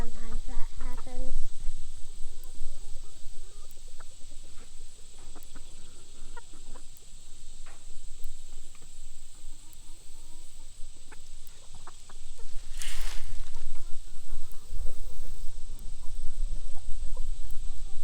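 Backyard flock of chickens clucking in short, scattered calls over steady outdoor background noise, with people talking at times.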